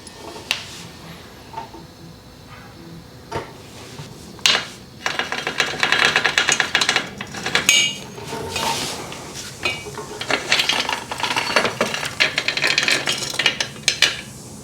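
A nut and washer come off the front sprocket of a Yamaha R1 during a chain swap. Metallic clinks, scrapes and clatter come in irregular close bursts, denser and louder in the second half, with no talk.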